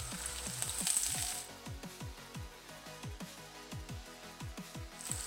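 Chopped garlic and green chili fry in hot oil in a pan over a medium flame, giving a faint, steady sizzle with rhythmic scraping as they are stirred, and no voices.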